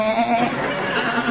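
A person imitating a male goat's bleat with their voice, a short wavering, quavering nasal call held close and loud for over a second.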